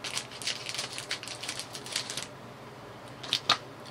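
A string of short, crisp snipping clicks comes in quick bursts, pauses, then a couple more sharp snips close by.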